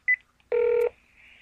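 Phone keypad dialing, two short close tones followed by a longer, louder tone, then a faint lingering hiss.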